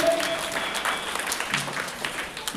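An audience claps for a correct answer in a Hindi moral-story quiz session, a steady burst of applause from a nearby group with no talking.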